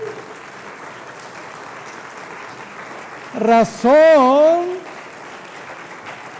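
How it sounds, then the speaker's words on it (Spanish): Church congregation applause forms a soft, steady background of clapping, briefly overtaken by a voice speaking loudly in the middle before the clapping carries on alone. "Démosle un aplauso al Señor."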